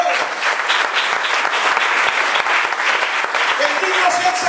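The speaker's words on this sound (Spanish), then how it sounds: "Denle aplausos al Señor." A church congregation applauds the Lord after a deliverance sermon, dense and loud clapping filling the room continuously, with voices shouting over it.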